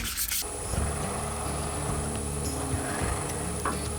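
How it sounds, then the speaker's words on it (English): A drill bores a pilot hole into a wooden lathe faceplate while a woodturner builds a scoop chuck jig, giving a steady, continuous whirring grind that holds at an even level throughout. "And I drill a pilot hole."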